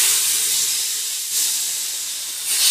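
Split chickpeas (chana dal) hit a hot pan with a loud, close sizzling hiss that swells in two sharp surges and then settles into a continuous steamy crackle.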